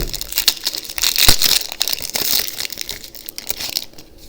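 A Pokemon TCG Silver Tempest booster pack is torn open by hand, producing a few seconds of close, crinkling foil rustles and rips in irregular bursts.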